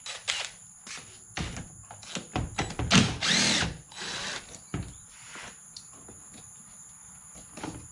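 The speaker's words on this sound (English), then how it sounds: "Turn your bars so you can get your drill." Power drill spinning bolts off a Yamaha Grizzly 125 ATV during carburetor removal, with short bursts of whirring, clicks and clattering metal nearby and a trailing rattle.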